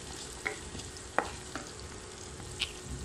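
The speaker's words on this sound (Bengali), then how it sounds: "এখন আমি পেঁয়াজটা একটু হালকা ভাজবো" Chopped onion and garlic fry lightly in a pan for beef kabab, a soft continuous sizzle broken by a few sharp spatula clicks and scrapes against the metal, close by and without talk.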